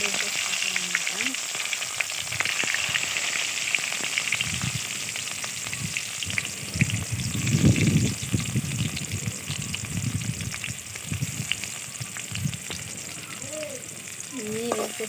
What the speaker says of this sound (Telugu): ఉల్లిపాయలు బాగా వేగనీయాలన్నమాట.